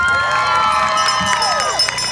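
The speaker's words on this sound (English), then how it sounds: "Give yourselves a round of applause" A crowd at a Yarmouth Pride event cheers and whoops loudly and continuously, with sustained voices rising and falling, close and full throughout.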